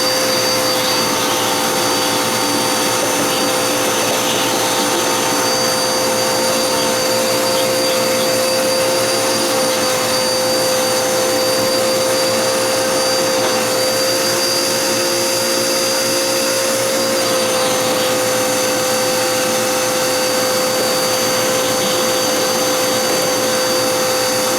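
A vacuum cleaner runs steadily and loudly at close range, pulling dust and debris out from under carpet during a new carpet installation, one unbroken drone with no pauses or voices.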